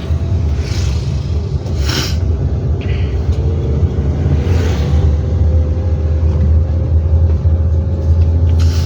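A car creeping along slowly in second gear, its engine giving a steady, close low rumble with faint road noise and no voices.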